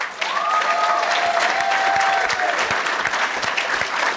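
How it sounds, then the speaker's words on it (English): Guests at a charity ball give a round of applause, loud, dense and sustained clapping from a large room, with a brief tonal whistle or squeal early on. "Can we have a round of applause for her?"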